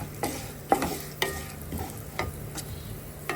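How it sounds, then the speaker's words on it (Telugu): Lentils and drumstick leaves frying in a pan, soft sizzling under a handful of sharp scraping spatula strokes that come roughly every half second, close up and with no speech. "ఇప్పుడు మొత్తం కూడా బాగా ఫ్రై అయ్యేలాగా వేయించుకోవాలి."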